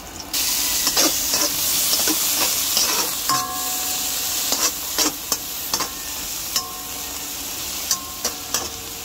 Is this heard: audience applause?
no